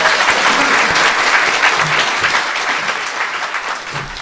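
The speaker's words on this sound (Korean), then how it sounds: "박수 부탁드립니다." A studio audience breaks into loud, dense applause that stays steady and close, fading slightly toward the end, with no talk over it.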